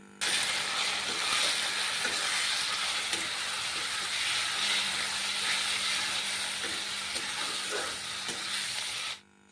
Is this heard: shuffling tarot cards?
no